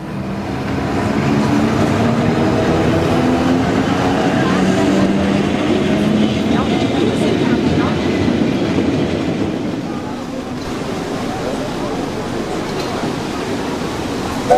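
A Brienz Rothorn railway train pulls away, giving a loud, steady rumble with rolling wheel clatter that fills the whole stretch and eases slightly near the end.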